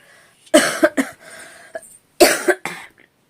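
A person coughs in two short bursts of two or three harsh coughs each, close up, with quiet pauses between.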